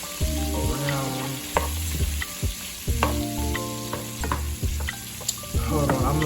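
Cabbage sizzles and fries steadily in a pan alongside sausages while a spoon stirs through it, giving clacks and scrapes against the metal over a continuous hiss, with background tonal hum from something nearby and no talking.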